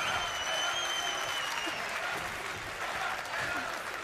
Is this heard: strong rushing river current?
no